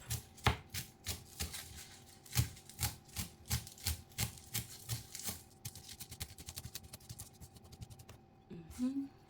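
A knife chopping callaloo leaves on a board, steady close thuds in a regular rhythm that quickens into faster, lighter cuts toward the end.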